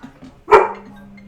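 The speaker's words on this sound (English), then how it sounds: "You know, she's a bad dog, Tammy." One sharp, loud dog bark indoors, close by and brief, followed by a steady low hum.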